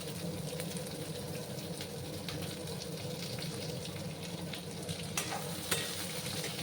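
Chopped onions fry in a pan for jackfruit seed dal, giving a soft steady sizzle with occasional light spoon scrapes and taps, quiet and close, with no talk.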